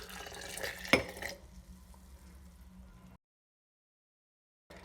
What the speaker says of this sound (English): I'm adding 250 milliliters of water.